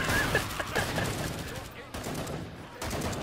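Continuous rapid gunfire from the video game Killing Floor 2, loud and steady with automatic-weapon bursts throughout, while players chatter over it.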